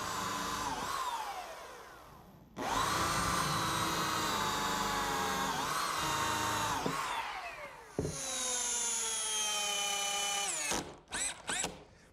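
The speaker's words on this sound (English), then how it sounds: "Okay, now for a couple screws down at the center brace." A power drill drives screws into the center brace of a wooden picnic table in three long whirring bursts, separated by short pauses and ending in a few quick stuttering pulses, close and loud.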